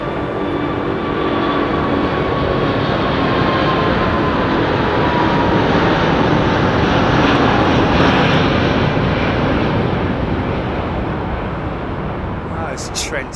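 Rolls-Royce Trent engines on an airliner at Heathrow Airport, a loud, continuous whining roar with a thin tonal hum held steady throughout, swelling slightly in the middle before easing off.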